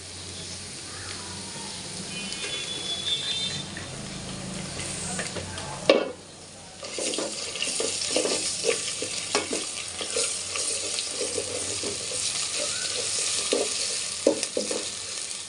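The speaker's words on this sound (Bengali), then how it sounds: "এখন পেঁয়াজ, আদা আর রসুন পেস্ট দিয়ে দিচ্ছি" Onion, ginger and garlic paste sizzles loudly in oil with cardamom, cinnamon, cloves and bay leaves for red beef bhuna. A brief hush comes just before a fresh burst of hissing, then steady frying with spoon scrapes.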